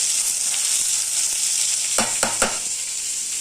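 Onions frying in oil in a pan while adai batter is being prepared, giving a steady close sizzle throughout, with a few sharp stirring clatters near the end.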